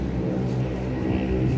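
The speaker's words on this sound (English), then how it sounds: "Loud car." A loud car on a London street at night, its engine a steady close rumble with no talk over it.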